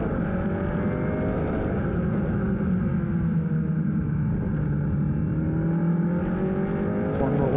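Formula Regional Americas race cars at Circuit of the Americas run down the long back straight into the heavy braking zone, a steady dense engine drone with shifting pitch throughout, under ongoing commentary.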